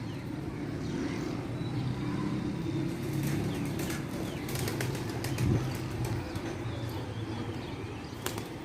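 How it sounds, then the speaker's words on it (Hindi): Pigeons flying in over a Karachi rooftop during kabootar bazi, their wings flapping in soft bursts over a steady low background rumble, with a few brief sharp flutters standing out. "अपने कबूतर अभी आ रहे हैं।"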